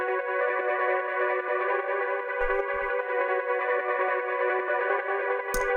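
A warped saw-wave synth drones continuously with a thick, buzzy tone, shaped by distortion, delay and sidechain pumping. It stays loud and close throughout, with a couple of brief low thumps near the middle and end.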